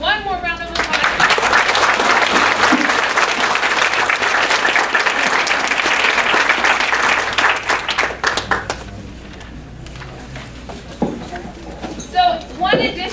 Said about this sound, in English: please give those students who are here one more round of applause